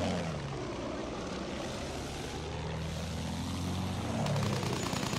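Steady propeller engine drone of an enemy aircraft in Battlefield 1, loud and continuous throughout, with a low rumbling hum and no voices.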